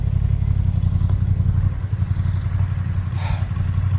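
A touring motorcycle idles nearby with a steady, low, throbbing rumble that runs unbroken from start to finish.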